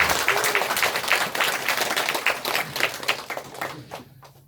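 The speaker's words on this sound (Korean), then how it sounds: "큰 박수 한번 부탁드리겠습니다" Audience applause in a lecture hall after a talk at an educational seminar, a dense sustained burst of clapping that stays steady, then thins out and stops in the final moments.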